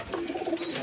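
A pair of Rampuri pigeons cooing softly in a short run of low, throaty burbling notes, close by and without voices.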